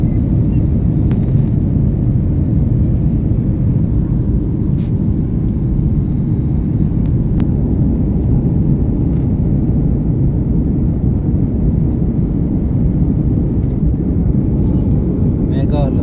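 Steady low cabin rumble of a passenger airliner in flight between Bengaluru and Vijayawada, a dense continuous drone filling the whole stretch with no voices heard.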